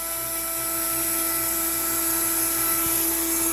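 An Onefinity CNC router feeding at 350 inches per minute cuts through a pine knot in wood at half-inch depth, a steady high-pitched spindle whine with a low pulsing cutting rumble, close and continuous.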